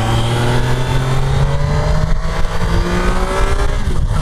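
A Triumph Tiger Sport 660 motorcycle pulls hard in second gear on the Interlagos circuit, its engine note climbing steadily and loud, close up, with wind rush underneath and no talking.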